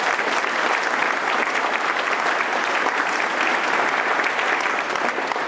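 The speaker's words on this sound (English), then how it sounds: "one final round of applause for our great veterans" Sustained audience applause for veterans at a VA clinic opening ceremony in Huntsville, a dense, steady wash of many hands clapping at close range with no talk over it.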